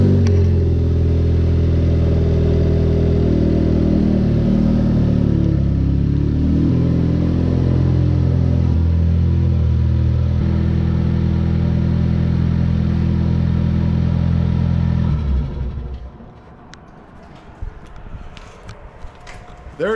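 A Ford Focus engine runs at a loud, steady idle with a deep harmonic hum while backing out. Near the end it cuts to quieter scattered outdoor noise and faint handling sounds.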